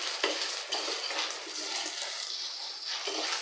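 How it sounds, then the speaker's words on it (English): Popcorn being stirred in a pot on the stove, a loud continuous hissing sizzle with scraping sweeps and occasional knocks, close up and without talk. "Make sure you continue stirring your popcorn."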